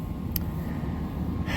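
Seeding drill crawling through a grass field at about 3 miles an hour, its shanks and hoses rattling and shaking in a steady, dense clatter under wind noise, with a brief sharp knock early on.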